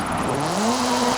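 Hoonigan Gymkhana 10 Ford Focus RS RX with turbocharged front-mounted engine and all-wheel drive, in a racing game: loud continuous engine note rising steadily in pitch as it accelerates, close and alone.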